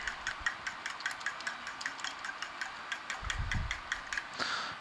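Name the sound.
beating eggs with a fork in a bowl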